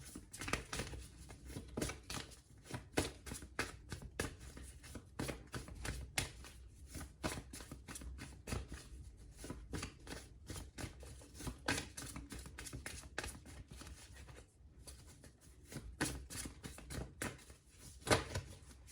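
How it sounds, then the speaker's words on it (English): Tarot cards shuffled repeatedly at close range, quiet rapid riffling and slapping in irregular bursts with no talking. "I think this is nicely shuffled."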